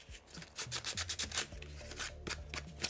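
Brown 3D-printed filament pews rubbed with sandpaper, a run of steady, close scratchy strokes with short pauses between passes, heard on their own without talk.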